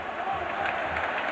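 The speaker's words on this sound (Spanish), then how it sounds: "el público lo aplaude" Steady applause and cheering from a football stadium crowd at a 1993 match between Barcelona and Dinamo Kiev, a dense continuous roar filling the whole moment without breaks.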